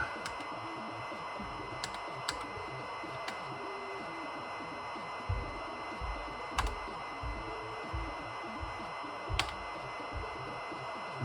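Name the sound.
keys pressed on a ZX Spectrum 128 +2B computer keyboard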